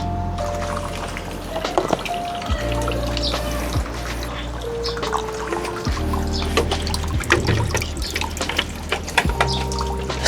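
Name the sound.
distilled water running through Triumph Trident 660 radiator drain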